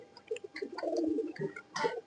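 An eleven-year-old pigeon coos close by in a loft, a few soft rounded calls rising and falling over about two seconds with no talking.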